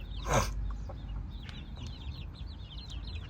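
Several chickens cluck and chirp softly nearby, with a brief rustling burst at the start and steady farmyard murmuring throughout.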